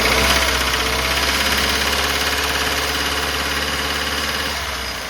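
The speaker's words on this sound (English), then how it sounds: "Go ahead and rev it up a little bit." Dodge Dakota 4-cylinder engine revving with an upper end tap, a steady mechanical drone with a fast ticking layered over it, close and even, easing slightly toward the end.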